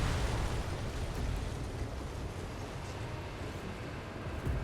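Rumbling blasts from a missile launch and explosion in the jet combat game Ace Combat 7, a dense, loud, steady roar with low booming bursts throughout.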